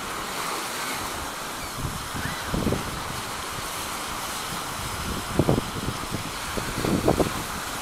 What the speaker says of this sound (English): Yeah, that wind is really getting it.